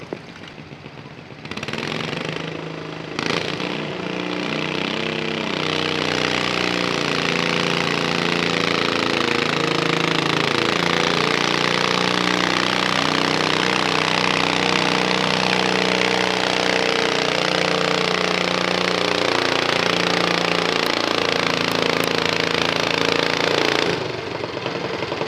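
A stock 16 class garden tractor roars loudly and steadily as it pulls the sled at a tractor pull, the engine note wavering under load for over twenty seconds before cutting off.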